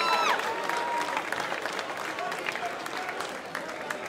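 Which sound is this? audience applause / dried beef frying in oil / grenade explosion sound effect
audience applause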